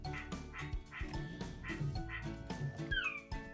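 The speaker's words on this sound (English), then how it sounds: "And this is how loud Lacey is on level one after the update." Sony aibo robotic puppy barking at volume level one after firmware update 5.50, a few soft electronic yaps spaced across the moment, with brief chirpy tones near the end and no talk.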